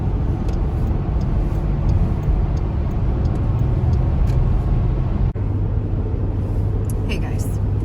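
A car on a cold road in New Brunswick rumbles steadily from inside the cabin, with low road and engine noise throughout and a person talking over it.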